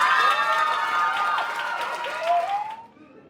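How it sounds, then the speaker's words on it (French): Loud audience applause and cheering fill a school talent show hall after a dance performance, steady dense clapping with a tonal voice or music line rising over it before it fades out near the end. "Applaudissez-la bien fort."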